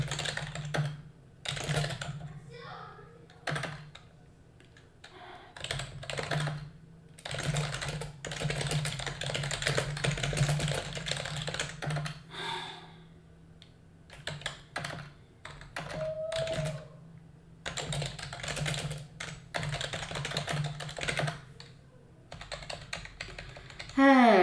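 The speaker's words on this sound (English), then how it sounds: "It's just a typical Logitech keyboard. I just type very loudly" Loud typing on an ordinary Logitech computer keyboard, bursts of rapid clacking keystrokes broken by short pauses, close to the microphone, with a steady low hum underneath and occasional talk between bursts.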